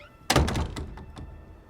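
A single solid thunk of a door shutting, close by, followed by a few fainter rattles and clicks as it settles.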